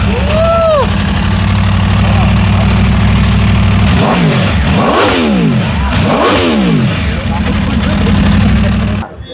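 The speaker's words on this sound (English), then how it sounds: "So this is a V4. You can listen to the sound of it." A 2025 Aprilia RSV4 1100 Factory V4 sport bike runs close by, idling with a steady throb before three sharp throttle blips rise and fall, loud and near.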